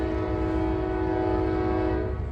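A freight or passenger train passes nearby with its horn held in one long, loud, steady blast over a deep rumble of rolling wheels, no talk.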